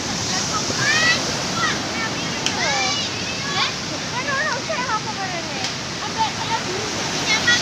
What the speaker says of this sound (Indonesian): Ombaknya gede loh